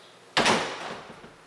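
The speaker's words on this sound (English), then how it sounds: "The doors work really good." An apartment door in an Austin loft slides or swings shut with one sudden, close whoosh and bump, then a short fading rattle in a quiet room.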